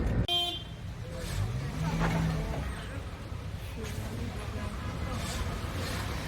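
Heavy road traffic in India rumbles at a distance, with a couple of short car horn toots standing out over the steady roadway noise.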